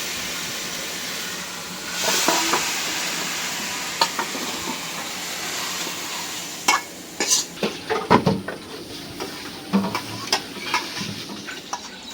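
Greens such as Malabar spinach sizzle and hiss in oil in a pan, a steady close frying sound punctuated by repeated clinks and scrapes of stirring.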